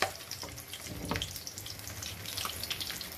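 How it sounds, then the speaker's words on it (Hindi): Green chillies frying in hot oil over high heat, a steady crackling sizzle with small pops, moderately quiet and close. "बस ऐसे तेज आंच पे इसको मैं फ्राई कर लेती हूँ"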